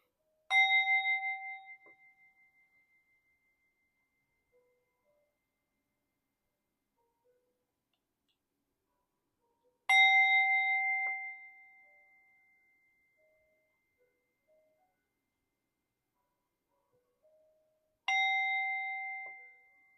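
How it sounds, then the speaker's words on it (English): A singing bowl is struck three times at slow, even intervals, each strike ringing out clearly and fading away over a few seconds into silence, with no other sound between strikes. "Singing bowl time. Sound bowl, whatever you want to call it."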